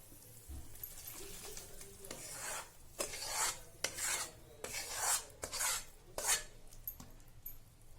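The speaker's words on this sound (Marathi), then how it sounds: "आणि चांगलं खालून वर असं छान मिक्स करायचं" A spoon scrapes and rubs through cashews, almonds, dried coconut and hot jaggery syrup being mixed for urad dal dry fruit laddu, steady rasping strokes in an uneven rhythm, close and fairly quiet.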